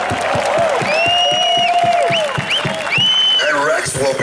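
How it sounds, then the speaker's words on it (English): A large festival crowd at a concert at KnotFest in São Paulo, Brazil, applauds and cheers in a sustained roar, loud and dense throughout, with scattered whistles and shouts rising above it. "Let's get a round of applause."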